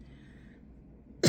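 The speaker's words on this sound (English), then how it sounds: "Excuse me for coughing in your ear." An older woman gives a single sharp cough close to the microphone, ending a stretch of quiet room tone.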